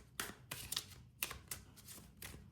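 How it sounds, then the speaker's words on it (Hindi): Tarot cards drawn from a deck and handled, giving a run of crisp, papery slaps and flicks in irregular bursts, close and fairly quiet, with no talking. "2 कार्ड्स और निकाले जाएंगे।"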